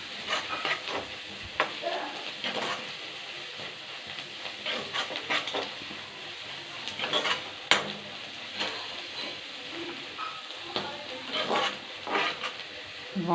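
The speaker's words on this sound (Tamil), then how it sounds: "நல்லா கோல்டன் ப்ரௌனாக வர வரைக்கும் நல்லா வதக்கணும்." Onions sautéing in a pan for karuvadu thokku, cooked toward golden brown, with a soft steady sizzle and repeated scraping stirs and light utensil clinks, fairly quiet and close.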